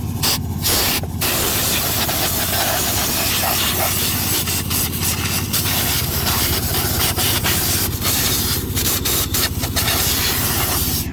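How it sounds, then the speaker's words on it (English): An air compressor blasts air through a hose to clean a farm planter, a loud continuous hiss close by with short breaks and bursts as the nozzle is triggered on and off. "Got my air compressor here,"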